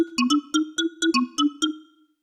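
A bright synth pluck repeats in a quick, uneven melodic pattern of about nine notes, each with a short reverb tail that fades out at the end.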